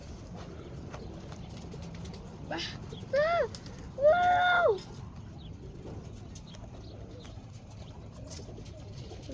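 Roller pigeons coo and call in a couple of short, close bursts over a steady outdoor background, with people talking nearby and a brief exclamation.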